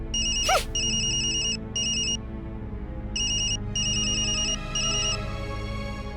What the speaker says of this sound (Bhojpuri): गुड्डू भैया के फोन है